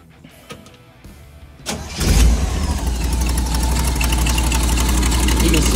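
Buick 225 V6 in a CJ2A Willys Jeep cranks over and catches, then settles into a steady, loud, close running drone that holds to the end.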